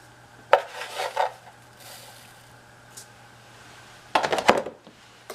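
Seasoning for keto BBQ ribs is stirred in a bowl, giving clinking and scraping utensil strokes in two short bursts separated by a quiet pause, fairly close and alone.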